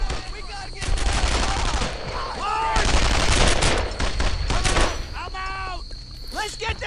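Bursts of rifle and machine-gun fire in the WWII shooter Brothers in Arms: Earned in Blood, with rapid overlapping shots and distant volleys under shouted squad orders, loud throughout.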